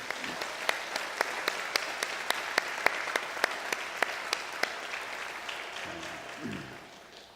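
A church congregation applauds at a Sunday evening service, steady rhythmic clapping in unison that runs for several seconds and then fades, with a faint low voice near the end.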